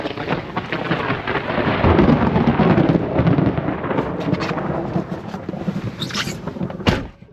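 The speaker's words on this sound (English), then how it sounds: "we'll probably get some more afternoon thunderstorms" A long, loud roll of afternoon thunder rumbles through a Florida thunderstorm with rain falling, then fades before a sharp closer crack near the end.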